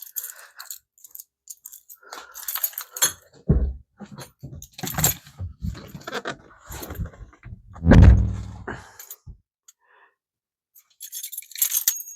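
Keys jangling and clinking close by in scattered bursts, mixed with soft handling thumps and a few quiet pauses.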